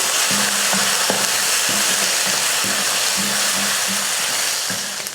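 Moong dal, onion and green chilies sautéing in a pan, a loud constant hiss of frying with a run of rhythmic scraping strokes from stirring throughout.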